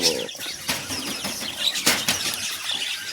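Caged birds inside a bird-breeding farm flap their wings in short, sharp flurries near the door, with scattered squeaks and chirps over a steady background hum.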